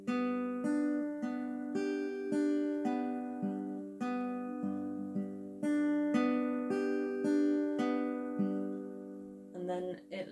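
Acoustic guitar strumming a chord pattern from a song cover, steady rhythmic strums ringing out clearly and closely with sustained chords, played alone without any voice.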